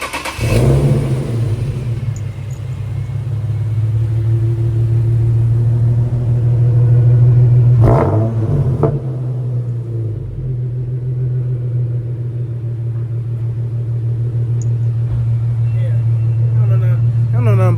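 A Dodge SRT Hellcat engine cold starts with a sharp bark, then settles into a loud, deep, steady idle rumble with a brief rev swell midway; a voice talks over it at times.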